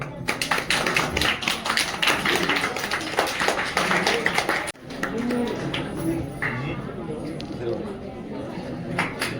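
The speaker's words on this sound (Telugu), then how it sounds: "మీరు గట్టిగా చప్పట్లు కొట్టారు" Dense rapid clapping from a crowd at an awards ceremony for several seconds, then it cuts off and a voice talks over a room murmur.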